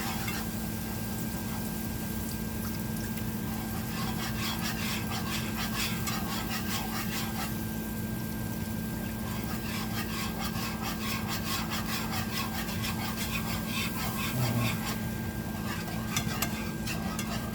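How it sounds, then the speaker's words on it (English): Milk being whisked into a mixture for lasagna, a rapid rhythmic scraping and rubbing of the whisk in a pan that runs steadily, with a brief knock near the end. "Stirring this in."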